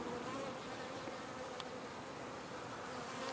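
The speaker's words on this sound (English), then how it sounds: "A lot of bees out front fanning." A steady, dense buzz of many honeybees fanning at a hive entrance, droning continuously up close, with no voices over it.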